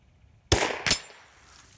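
Two sharp shots from a Ruger .22LR rifle fired at a target, the first cracking out alone and the second following about a third of a second later with a short ringing tail, loud and close.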